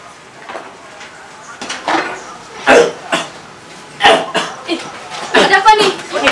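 Several short coughs and throat-clearing bursts in a spoken Indonesian comedy scene, close and fairly loud, with talk-like sounds between them.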